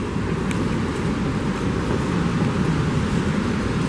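Subway train pulling into the new South Ferry terminal station, a steady loud low rumble and roar filling the platform throughout with no break.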